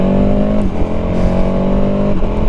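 A KTM 1290 Super Adventure S motorcycle with a quick shifter pulls hard under acceleration, its engine a steady, loud, continuous drone with a brief dip partway through as a gear changes, and no talking.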